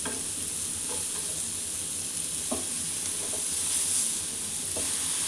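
Chicken tandoori tikka sizzles steadily in a pan just after being turned, a close, continuous frying hiss with a few soft scraping and stirring knocks and no talk.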